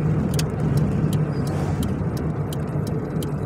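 A car cruises along a high-desert road in Southern California, a steady close rumble of engine and tire noise with faint regular ticking above it.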